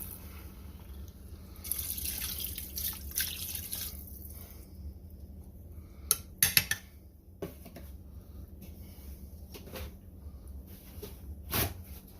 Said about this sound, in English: We're going to add 1 quart of water, cold water.